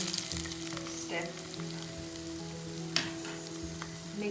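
Dry fruits frying in hot ghee on a low flame for sweet pongal, a soft continuous sizzle with faint crackles and a light stir or tap near the end, heard alone.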